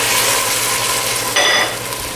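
Peaches, pineapple and salsa tipped into a hot pan for a pork dinner, giving a steady sizzle with a brief burst of louder spitting and clatter as the fruit lands, alone without talk.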